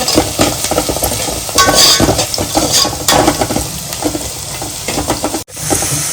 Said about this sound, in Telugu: పసుపు వేసి అల్లం వెల్లుల్లి పేస్ట్ వేసి అల్లము పచ్చిపోయే వరకు వేగనివ్వాలి.